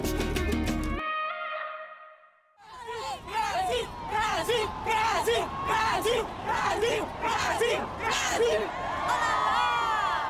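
Large crowd of about 50,000 spectators at the VIVO Rio Pro surf contest in Saquarema, Brazil, roaring and cheering in loud rhythmic surges, following a short musical intro and a brief lull.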